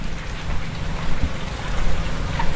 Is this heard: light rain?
yes